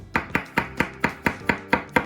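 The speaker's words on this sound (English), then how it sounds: "I really want to get these down to a nice kind of fine chop, but the first thing I like to do is to slice them all up." A knife slices through whole mushrooms on a cutting board in a steady, even rhythm of eight crisp, close strikes, each a sharp tap against the board with no talk over it.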